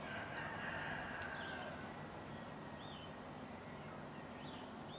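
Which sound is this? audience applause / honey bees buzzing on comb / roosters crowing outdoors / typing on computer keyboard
roosters crowing outdoors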